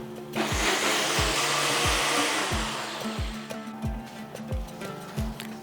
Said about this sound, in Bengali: বাটবো 1/2 কাপ টক দই দিয়ে। এরপরে এটাকে একদম মোলায়েম করে বেটে নেব।